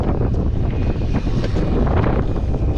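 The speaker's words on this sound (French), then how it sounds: "Un vent de face qui est terrible." Strong easterly headwind battering the microphone on an outdoor long-distance ride, a loud continuous low roar with gusty buffeting and no speech over it.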